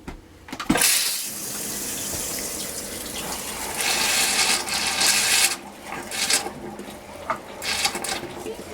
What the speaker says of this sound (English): we're going to run some antifreeze through the commode